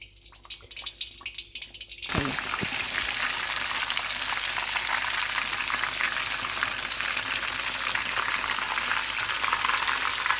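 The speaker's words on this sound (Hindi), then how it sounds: "जब आपने चिकन को कढ़ाई में डालना है ऑयल में, तो इसको आपने डाल के ज़्यादा पलटना नहीं है" Chicken pieces drop into hot oil in a kadai for a KFC-style zinger burger, erupting into a loud, steady broadband sizzle after a quiet start with faint background noise, frying on without pause.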